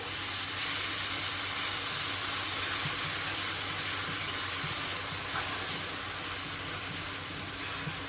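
Onions and finely diced shallot fry in a pan and get stirred, giving a steady, close, hissing sizzle that runs unbroken from start to finish with no voices.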